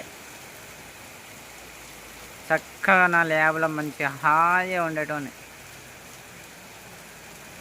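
Steady rain hisses outdoors as a faint, even wash, with someone speaking over it for a couple of seconds in the middle.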